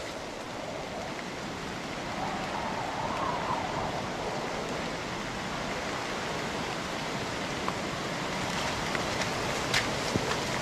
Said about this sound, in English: Those winds are howling now.